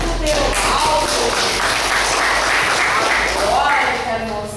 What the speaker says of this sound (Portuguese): Palmas para o mágico Teobaldo